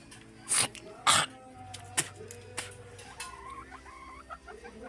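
Hens cluck and squawk close by in a few loud bursts, followed by softer intermittent clucking and low murmurs.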